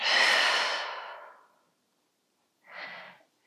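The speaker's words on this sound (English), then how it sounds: "Let's take a breath in together. And a breath out." During a yin yoga session a person lets out a long, audible breath that fades slowly, and after a pause a second, shorter breath follows, close and with no talking.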